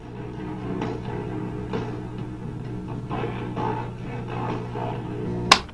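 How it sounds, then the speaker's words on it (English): Tape player running on half-wave rectified current gives a steady low hum with faint, muffled playback sounds above it, continuous and close, ending in a sharp click. "The tape player running on this kind of power sounds like this."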